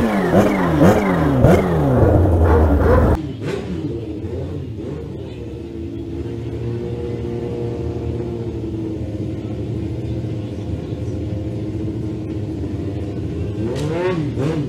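A drag racing motorcycle launches at Velopark, a loud close revving roar that cuts off abruptly into a lower steady engine drone as the bike pulls away, with rising whine returning near the end.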